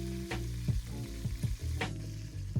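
Chicken pieces brown in a frying pan for a sauce piquant, a steady close sizzle with a few sharp spatters and scraping touches over a tonal hum in the background, with no voices.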